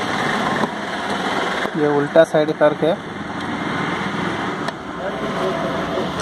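A sewing machine stitches a jeans zip fly with a steady, close mechanical hum and vibration, while a person talks briefly in the middle.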